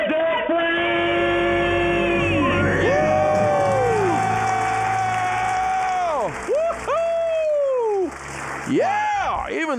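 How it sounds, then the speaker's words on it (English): A crowd cheers and screams loudly, with rising and falling whoops and shouts over a continuous roar. "Let's hear a debt-free scream."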